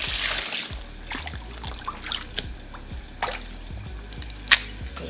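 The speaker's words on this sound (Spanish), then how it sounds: "Ahora le vamos a poner agua" Water poured into a container of dried chiles in a kitchen, trickling and splashing in uneven bursts with a few sharper drips and knocks.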